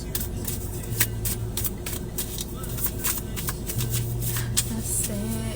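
Quick, crisp riffling clicks of tarot cards being shuffled repeatedly, close by, over a background of music.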